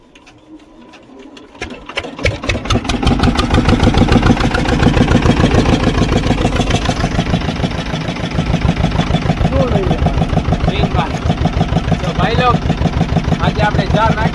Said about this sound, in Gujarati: હાલો તમે એન્જિન ચાલુ કરી